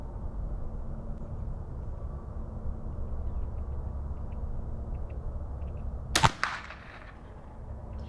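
A Marlin 39A rifle fires a single sharp, loud report outdoors against a steady background rumble, with a short ringing tail and a faint echo.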